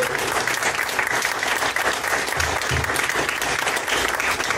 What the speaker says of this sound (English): everybody, give a round of applause for Pablo.